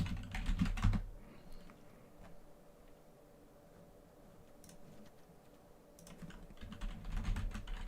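Quiet keystrokes on a computer keyboard cluttered with objects, tapping in irregular bursts at the start and end with a sparser lull in between, close and soft.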